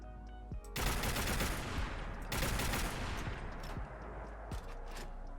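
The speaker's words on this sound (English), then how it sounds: "here is the standard small magazine using the triple barrel reload." In Fallout 4, a custom SMMG with a triple barrel fires rapid bursts of gunfire in two loud volleys, with mechanical clicks of the reload before and between them and a few sharp single shots trailing off.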